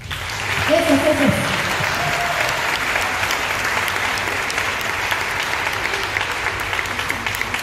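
An audience applauds steadily and warmly, the clapping holding at an even level throughout, with a brief voice heard near the start.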